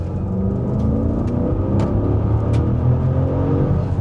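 Maserati super sporty SUV engine humming steadily while driving, a continuous low rumble and whir with road noise, moderately loud and unbroken, no voices.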